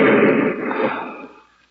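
A hand grenade explodes in an old-time radio detective drama, a single broad muffled blast that starts loud and decays over about a second and a half.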